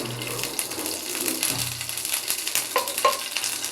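Nuts frying in ghee for semolina halwa, a soft steady sizzle with light stirring clinks and scrapes, fairly quiet and close.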